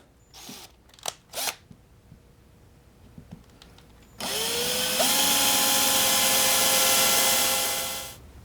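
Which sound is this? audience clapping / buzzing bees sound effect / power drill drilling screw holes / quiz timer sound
power drill drilling screw holes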